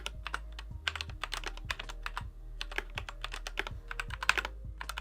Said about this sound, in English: typing on this keyboard it's okay, it's nothing special